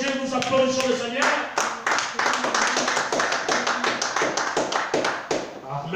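A church congregation claps hands together in a fast, steady rhythm, many hands close and loud, with a voice talking over the clapping at the start.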